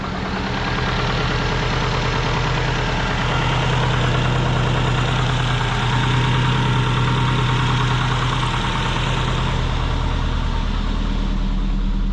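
A twin-turbo Subaru Forester with a coolant problem idles steadily after start-up, its engine giving a constant low, even drone with a faint knocking vibration and no voices over it.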